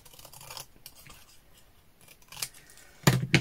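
Snipping scissors cut through paper along a dotted line in short bursts, quiet at first, then a louder cluster of crisp snips near the end.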